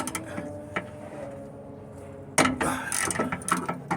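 A half-inch ratchet clicks while bolts are loosened on a Mercedes diesel van during a clutch replacement on the floor, with faint sparse ticks at first, then a louder burst of rapid ratcheting and metallic clatter near the end.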